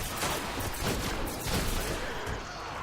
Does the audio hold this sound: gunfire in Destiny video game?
yes